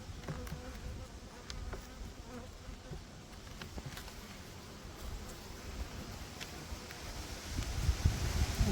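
Faint, continuous buzzing of many honeybees close by at an open hive during autumn apiary work, with light wind rustle and soft handling noises rising toward the end as a frame is lifted.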